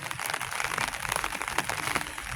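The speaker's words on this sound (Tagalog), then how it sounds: "Naulan na naman." Rain falling outdoors during a heavy downpour, a dense crackling patter of drops on surfaces, steady and fairly close, with no voices over it.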